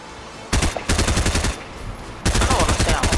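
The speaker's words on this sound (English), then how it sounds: "Them gunshots close." Automatic gunfire in the video game Fortnite, close and loud, coming in three rapid bursts separated by short pauses, each a fast even rattle of shots.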